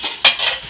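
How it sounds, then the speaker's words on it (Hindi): Dishes and utensils clatter loudly while being washed by hand, with a sharp metallic clink in the middle among quieter scraping and rattling. "बर्तन थोड़े धोने वाले होए सी मैं इकट्ठे कर लवां मैं बर्तन धोने आ जी"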